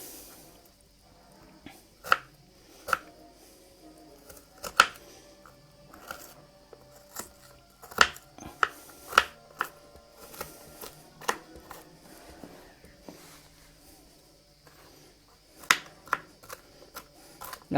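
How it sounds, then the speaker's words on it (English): A kitchen knife chopping onions on a board for a cheese and herb crusted cottage pie, giving scattered sharp cuts and taps at an irregular pace, close up and fairly quiet, with no talking. "But onions are much easier to cut apart from they make you cry."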